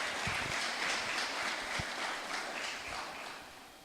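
Church congregation at a celebration service applauding Jesus, a dense, fairly quiet rustle of many hands clapping together, steady for a few seconds before thinning out slightly at the end.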